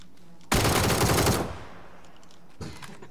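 A single loud burst of automatic gunfire in a video game lasts about a second, then fades into a dull tail, followed later by a brief softer thump.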